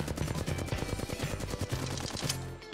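Rapid, dense shots from the Kraber heirloom sniper rifle in the video game Apex Legends, a loud close clatter running steadily for almost three seconds with no voices.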